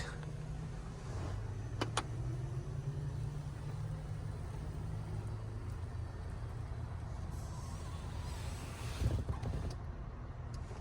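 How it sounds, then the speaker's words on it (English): The power convertible top of a 2017 Jeep Wrangler Unlimited Rubicon retracts with a low, steady electric motor hum for about five seconds, followed by faint clicks and a mechanical clunk. The sound is quiet and close. "it does have a retractable power convertible top"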